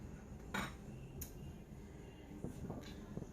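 Meatballs being stirred in a pot of creamy roasted red pepper Alfredo, a few soft clinks of a utensil against the pot scattered over a low background hum, moderately close and fairly quiet.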